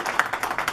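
Brief burst of clapping at a ceremony where a plaque of appreciation is being presented, a few hands clapping in a quick, uneven patter that fades within a second.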